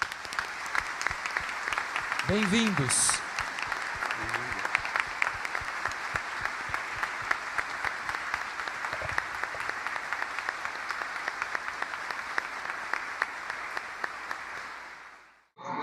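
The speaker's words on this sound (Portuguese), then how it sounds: "acolhê-los com uma bonita salva de palmas" A church congregation applauds to welcome two priests, among them Father Anderson Silva, the new parish vicar. Steady, dense clapping fills the full fifteen seconds, with a brief spoken greeting early on.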